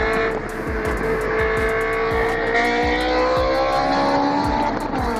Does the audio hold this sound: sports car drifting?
yes